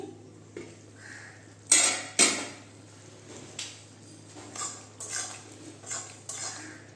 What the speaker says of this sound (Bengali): ঢাকনাটা আমি তুলে দিচ্ছি